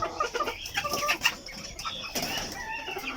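A white Polish rooster gives short nearby clucks and murmurs, with some rustling of feathers in a backyard coop.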